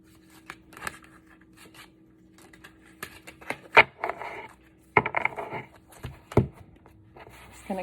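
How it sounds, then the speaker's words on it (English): A deck of Lioness Oracle Tarot cards being shuffled close by, with bursts of crisp riffling and card slaps separated by quiet pauses, some sharp clicks standing out. "So I'm shuffling the deck and I'm using the Lioness Oracle Tarot by Alejandra Leon."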